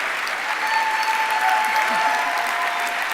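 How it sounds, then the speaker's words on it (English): An audience claps at a company all-hands meeting, dense and sustained applause filling the room at an even level, with faint tonal hum running beneath it. "I'll wait for them to stop clapping"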